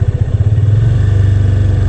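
A motorcycle engine rises from an uneven chug into a faster, steady throbbing as it is revved to around 2,500 RPM, loud and close throughout with no speech.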